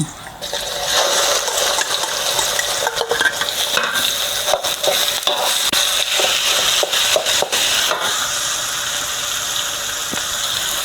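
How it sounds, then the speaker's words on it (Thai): Ground pork is stir-fried over low heat with fried garlic and pickled Chinese olives, a loud, continuous sizzle broken by repeated close scrapes and taps of a spatula. "ในขณะที่ผัดก็ ยี ๆเขาหน่อยให้เขาเข้ากันค่ะ"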